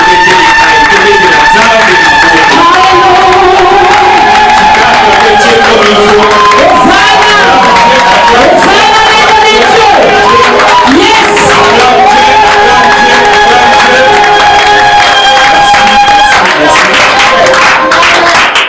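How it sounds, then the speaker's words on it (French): A church congregation cheers and claps for God, a loud, sustained mass of voices, whoops and applause running the whole stretch, with music-like sustained tones woven through and shouts rising above the crowd. "Est-ce que tu peux acclamer Dieu plus fort?"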